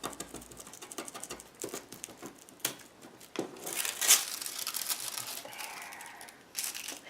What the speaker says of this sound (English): I'm going to put the foil down